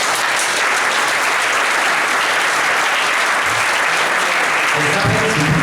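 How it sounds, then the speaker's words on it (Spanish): A gala audience at an industrial engineering event in Vigo breaks into loud, sustained applause that fills the hall evenly throughout, with a few voices faintly under the clapping. "pido un fuerte aplauso"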